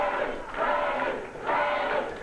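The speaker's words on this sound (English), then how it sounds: "Freddie, says the crowd." Wrestling arena crowd at a 1989 CWA Memphis match chanting "Freddie" in two loud, rhythmic swells, the massed voices rising, dipping briefly, then surging again with no other talk over them.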